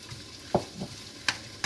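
Poppy seeds and cumin seeds frying lightly in a hot pan, giving a soft crackle with a few sharp pops and spits, heard close with no voices.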